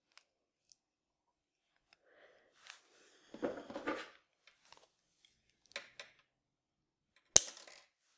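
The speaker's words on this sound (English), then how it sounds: "This is a normal, slightly flexible floral wire. I cut a piece off." Slightly flexible floral wire being cut during crochet work: faint handling and rustling, then one sharp, close snip near the end followed by a brief rattle, all set against near silence.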